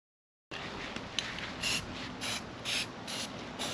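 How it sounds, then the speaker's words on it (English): Short bursts of aerosol spray paint hissing close by onto mini bike wheels, repeated in a steady rhythm of about five squirts over a faint background. "Today we are spray painting the wheels."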